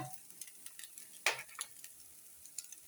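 Butter and oil sizzle faintly in a pan while French toast cooks, with light ticks and a brief sharp scrape of a utensil against the pan partway through.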